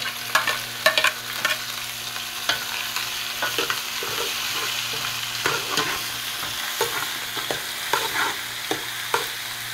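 Camel fry ingredients are stirred in a hot pan while oil sizzles steadily, with scraping strokes of the spoon popping out irregularly over the frying hiss; no one talks.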